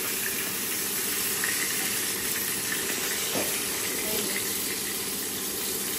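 Boal fish, oiled before going in the pan, frying in hot oil with a steady broad hiss and a faint brief splutter near the middle, no voices.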